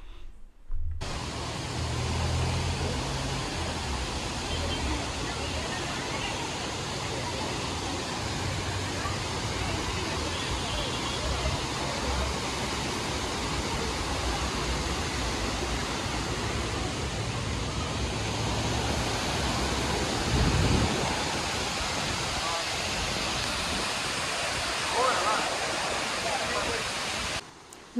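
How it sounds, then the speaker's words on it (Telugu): Silver Cascade waterfall near Kodaikanal roars as a dense, continuous rush of falling water, steady and loud for the whole stretch with faint voices mixed in. "అలాంటిదే ఈ వాటర్ ఫాల్ సౌండ్ కూడా."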